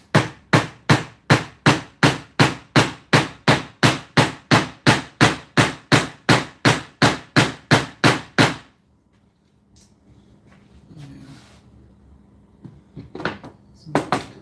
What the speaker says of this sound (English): I'll just try it with the hammer there.